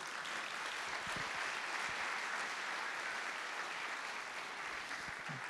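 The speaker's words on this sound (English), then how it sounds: "Yeah, I think you can give him a round of applause for that." Audience applause at a forum on international trade strategy, a sustained even patter of many hands clapping at moderate level throughout.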